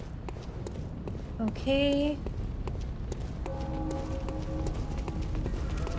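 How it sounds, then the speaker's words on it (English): Footsteps of people approaching from behind in Bloodborne, a run of soft rhythmic steps under other game effects and a short spoken remark. "Oh, there's people behind me. I can hear footsteps."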